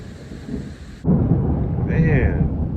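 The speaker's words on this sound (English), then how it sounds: "Damn, this rain." Heavy rain pours down steadily at a lakeside campground, with a low rumble of thunder rolling in partway through and a voice briefly talking over the downpour.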